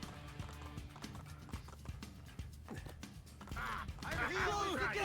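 Horse hooves clip-clop in a steady, quick rhythm in a video game, moderately close, with a brighter burst of game sound and whinny-like tones rising toward the end.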